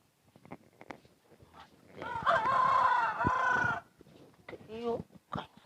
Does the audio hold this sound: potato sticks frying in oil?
no